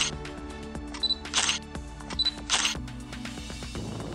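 A camera at a lakeside with turquoise water and red-and-white slopes fires its shutter twice. Each crisp click follows a short, high focus beep and stands out against quiet background sound.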